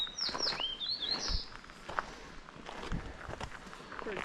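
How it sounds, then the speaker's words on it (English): Birds chirping outdoors on a mountain hike route to Lake Blanche and Sundial Peak, with a burst of high, bright calls early on, fainter chirps later, and footsteps crunching on the trail throughout. "Bird's telling me something."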